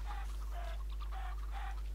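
Chickens cluck in Minecraft's Tekkit modpack, several short clucking calls in quick succession over a low steady hum.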